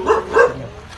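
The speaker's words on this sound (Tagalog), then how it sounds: "Ayan, may aso na lang." Two quick dog barks nearby, a short pair of yaps in succession followed by quiet background.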